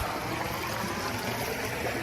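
Water runs steadily from the stone fountain of Saint Zosimus, built in 1957, a close, continuous trickling stream with no voices over it.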